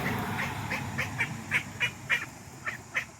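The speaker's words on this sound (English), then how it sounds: "Ducky ducky, get out of my garden, ducky ducky." A duck in a vegetable garden quacks about ten times in a steady, fairly evenly spaced series, moderately close and clear over faint outdoor background noise.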